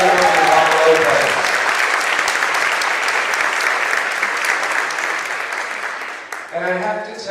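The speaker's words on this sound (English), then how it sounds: "How about a big round of applause for our past executive director, Gala." A big round of audience applause at a 2018 gala for a past executive director: dense clapping near and loud, easing slightly toward the end as a voice starts speaking over the final moments.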